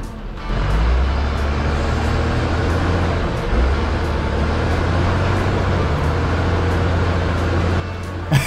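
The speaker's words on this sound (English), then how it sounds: "she spins tires because I don't get took off quick enough. Listen." A heavy truck engine roars steadily with a deep rumble and gritty crunching as its tires spin on gravel, loud and close, holding for several seconds before easing off.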